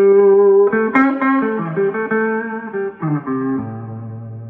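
Electric guitar played clean through the neck humbucker, a warm single-note melody with sustained, ringing tones and a few slides, heard alone without talk.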